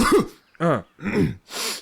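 A man coughs and clears his throat in four short, close bursts while eating a pastry, each separated by a brief pause.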